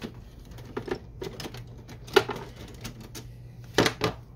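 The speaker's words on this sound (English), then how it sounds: "Okay, we're going to pull out the ink cartridges." Ink cartridges pulled from a Canon Pixma MG6820 inkjet printer, heard as close plastic clicks and clattering knocks spaced irregularly, with sharper snaps near the middle and the end.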